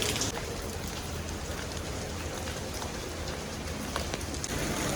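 Steady rain falls and patters on nearby surfaces in Split, Croatia, a constant close hiss with scattered drops throughout.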